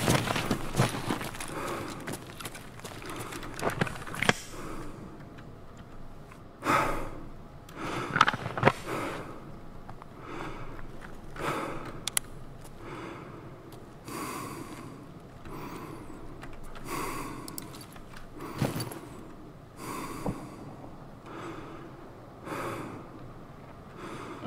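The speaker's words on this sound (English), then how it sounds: "I love when the fucking breathing noise won't go away." A video game character's breathing loops persistently: repeated heavy, raspy inhales and exhales with snort-like sniffs, close and steady throughout, with scattered faint mechanical clicks.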